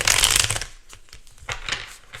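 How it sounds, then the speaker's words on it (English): Tarot cards shuffled by hand during a reading, a burst of dense papery riffling at the start followed by softer, scattered flicks and a second flurry, close and fairly loud with no talking. "One more shuffle for Scorpio."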